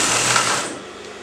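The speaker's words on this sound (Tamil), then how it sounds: "இந்த மாதிரி ஃபுல் ஸ்கர்ட்டையும் நான் தைச்சிடுறேன்." A sewing machine runs in a brief continuous burst while stitching a full skirt with stretched elastic, close and fairly loud, the motor whir fading out after under a second.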